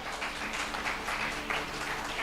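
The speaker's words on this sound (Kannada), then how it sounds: "ಚಪ್ಪಾಳೆ ತಟ್ಟಬೇಕಿದೆ" A church congregation at a New Year sermon applauds in a steady, dense patter of many hands. The clapping is moderately distant and continues without a break for a couple of seconds.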